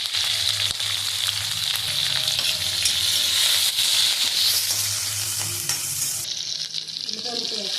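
Green chilies, garlic and curry leaves temper in hot oil, crackling and sizzling loudly and close with stirring throughout, the fry dropping off sharply near the end.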